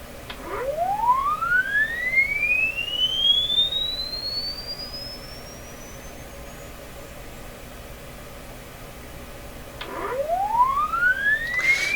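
A test sweep tone plays through a 1929 Victor RE-45 radio, a clear pure tone gliding upward from low to high over several seconds. A second sweep starts from the bottom again near the end, over steady background hiss.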